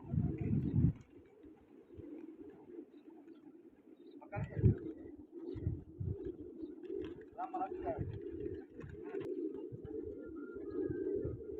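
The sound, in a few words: pigeons cooing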